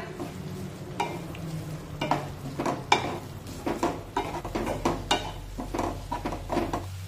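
A spoon scrapes and stirs oats upma in a kadhai with water and salt, giving irregular knocks and scrapes against the metal over a low bubbling simmer, close and clear.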